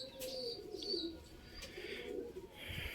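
Pigeons coo and chirp nearby on a rooftop during a flock training flight, with soft fluttering and steady outdoor background noise throughout.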